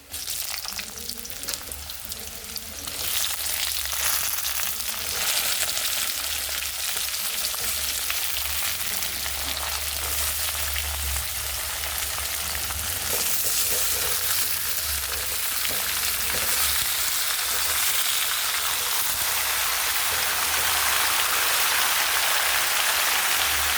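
Pumpkin pieces drop into a pan of fried onions for an Assamese pumpkin curry, and a loud, steady frying sizzle runs close and continuous throughout, swelling as the pumpkin goes in.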